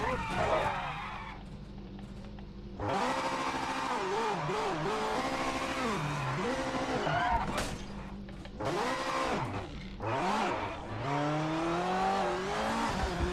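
A race car in the Project Motors Racing video game screams through gear changes, its engine note rising and falling in repeated revving sweeps with brief tire squeal, loud and continuous with short lifts between pulls.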